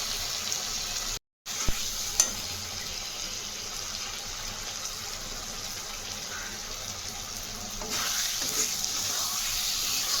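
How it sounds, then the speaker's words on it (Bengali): Prawns cooking down in spice masala with onions for prawn dopiyaza, a steady close sizzle of oil with occasional stirring clicks, continuous and moderate, with a brief cut near the start. "আমি ভালো করে কষিয়ে দিচ্ছি"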